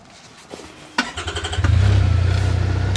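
A CFMOTO U10 Pro three-cylinder UTV engine cranks briefly with a few clicks, catches and fires up, then settles into a loud, steady, close idle with no talk over it.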